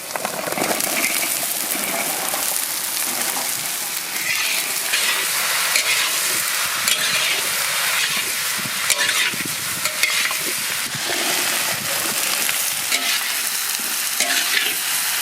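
Mixed vegetables with turmeric and curry leaves sizzle steadily in a hot pan while being stirred, a dense, continuous frying hiss with scraping stir strokes throughout.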